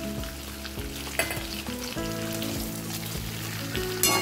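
Fish heads go into a pan of mixed vegetables for a Bengali chhyachra and fry with a steady, close sizzle. A few scraping stirs cut in, and a faint tonal hum runs underneath.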